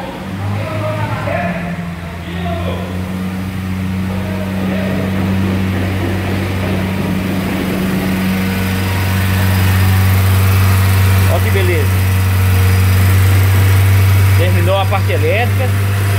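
A vehicle engine idles steadily and close by after repair work on its electrical harness, giving a continuous low hum with a faint rattle and no change in speed.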